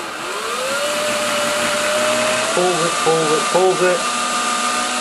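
A cordless drill fitted with a tap splitter tool whirs steadily as it undoes a stuck tap nut, its motor pitch rising then holding, with a man's brief speech breaking in near the end.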